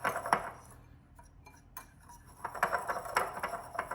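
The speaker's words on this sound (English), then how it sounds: "we're gonna take a little whisk and whisk everything together" A small whisk rattles against a bowl while mixing ground spices, quick light metallic clinks in bursts at the start and again through the second half, with a brief quiet pause between.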